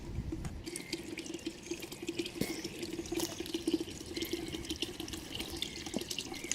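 Water pours out of a structure toward an old canal route beside a reservoir, making a continuous close splashing gush with small drips and trickles throughout.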